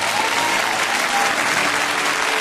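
A church congregation breaks into loud, dense applause to acclaim the Lord, sustained clapping filling the hall throughout.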